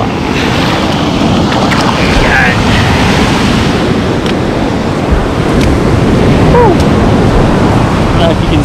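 Ocean surf on a Sydney beach washes in as a loud, continuous roar with heavy wind buffeting the microphone, a voice faintly heard beneath.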